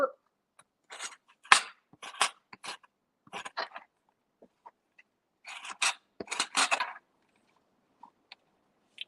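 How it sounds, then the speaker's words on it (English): A knife slicing open a vanilla bean and scraping out its seeds, heard as a run of short dry scratchy strokes in separate bursts with quiet gaps between them, close and soft. "you slice the bean, and then you scrape the bean out of the center"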